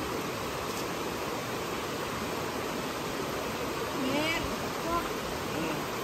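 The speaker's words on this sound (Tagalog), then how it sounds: "Ito na guys, nandito na tayo sa ilog." River water flowing at a camping spot in Palawan, a steady close rush of moving water that fills the whole stretch with even broadband noise, and faint voices are partly buried beneath it.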